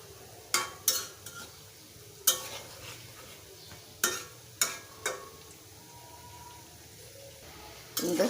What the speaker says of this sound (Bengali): দেখো সবগুলো নিমকি তেলে দিয়ে দিছি